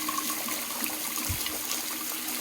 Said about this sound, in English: And this waterfall is probably some of the cleanest water we can get.